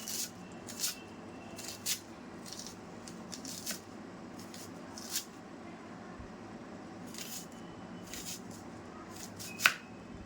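A knife chops an onion finely on a cutting board, producing quiet, sharp taps spaced at uneven intervals over a low background hiss, with no talking.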